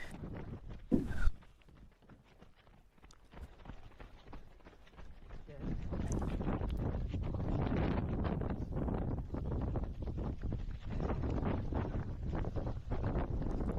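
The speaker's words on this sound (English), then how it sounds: "definitely running into a headwind here" Strong headwind buffets the microphone during a trail running race in Cape Town, a loud continuous roar with rhythmic footfalls and a commentator speaking over it.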